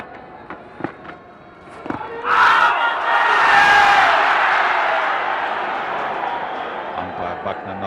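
A cricket stadium crowd at an India versus Pakistan Test match erupts into loud cheering and roaring, rising sharply after a few scattered claps and sustaining a broad excited swell that slowly eases off.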